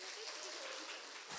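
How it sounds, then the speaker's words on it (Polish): Applause from the audience at a children's song festival gala in Łasin, a dense, even wash of clapping that fills the whole moment and fades at the end. "Brawa dla was."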